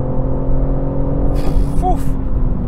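A new BMW M3 Competition engine holds a loud, steady, rumbling drone up close as the car pulls, with a voice breaking in briefly partway through.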